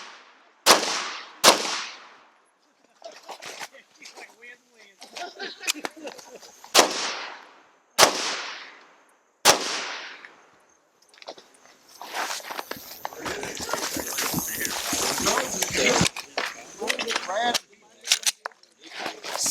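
Pistol shots crack in quick bursts during a tactical fighting pistol class drill, loud sharp reports spaced by pauses, with a dense rapid volley near the end and instructors shouting commands between strings.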